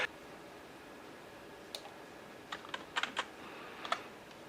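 Scattered clicks of a computer keyboard, a handful of key presses tapping at irregular intervals, close but quiet over faint background hiss.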